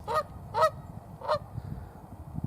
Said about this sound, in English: So far, Mr. Goose, or Mrs. Goose, whatever he is, she is, just hanging around